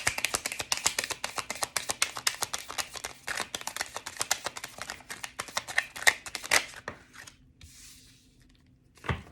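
Tarot cards are shuffled and handled in quick bursts of riffling slaps and ticks that thin out near the end, close and crisp with nobody speaking.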